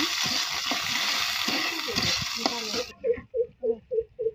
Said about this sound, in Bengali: এবার এইগুলো দিয়ে আমি 1 মিনিটের মতো ভেজে নিব